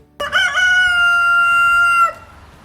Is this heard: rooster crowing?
yes